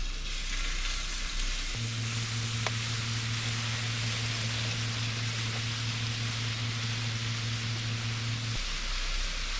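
Cilantro pork balls frying in a pan on medium heat give a steady, close sizzle with a low hum underneath, continuous and unchanging, with no voices.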